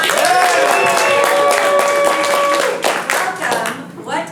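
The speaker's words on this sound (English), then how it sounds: "Let's get a cheer if you're here for the first time." Audience at a Mockingbird improv show cheers, whoops and claps continuously and loudly, the roar thinning into scattered applause toward the end.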